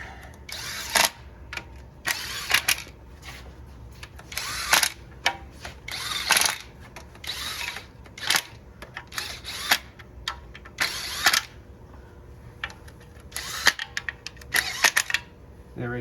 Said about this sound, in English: run them down till they hit with a little electric gun like this